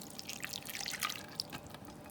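Hot, just-bubbling liquid is poured from a heated pan, giving a steady trickle with bright dripping and splashing spatters, moderately close and with no voices.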